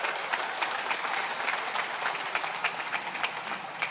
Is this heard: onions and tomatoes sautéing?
no